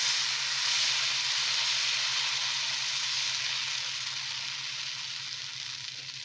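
Adai batter sizzling in hot oil on a pan, with oil poured into a hole in the batter: a steady, close, loud frying hiss that fades slightly toward the end, with no talking.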